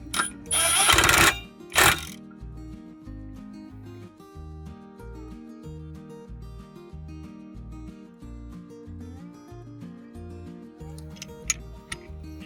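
Rhythmic ratcheting clicks of a torque wrench tightening a clutch bolt on a Polaris RZR Pro XP Turbo, preceded by two loud bursts of handling noise, with faint music underneath.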